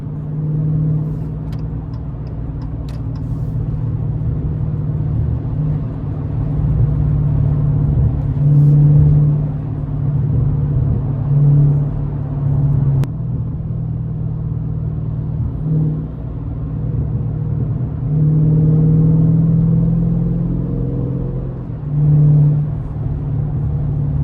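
A Dodge 392 SRT's V8 rumbles in 9 a.m. city traffic, heard from inside with a deep steady drone that swells in several revving surges as it accelerates, loud and continuous with no talking.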